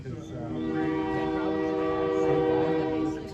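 A train on a historic railroad sounds its horn in one loud, sustained, chord-like blast lasting about three seconds, close by over a low rumbling background.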